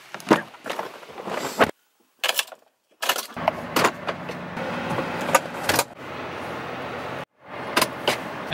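A person climbs into a truck, with several sharp door thumps and clunks, keys and rustling, then a steadier engine rumble between silent breaks, all close and fairly loud.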